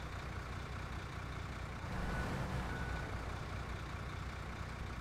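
A truck in SnowRunner backs up with a steady low engine drone and faint reversing beeps, continuous and moderately quiet, with no talking.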